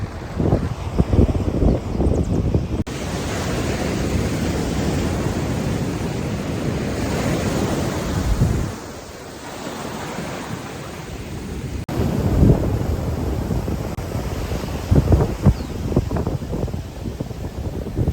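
Steady roar of surf rolling onto Vigie Beach in Castries, Saint Lucia, with broad wind-blown wash and brief lulls between breaking waves; no one speaks.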